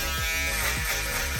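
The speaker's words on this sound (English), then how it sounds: "I will turn my shaver on" An electric shaver buzzes steadily up close while cutting a high taper skin fade, its motor hum pulsing slightly as it runs alone.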